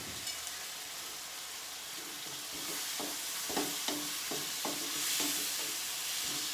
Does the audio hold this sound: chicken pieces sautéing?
yes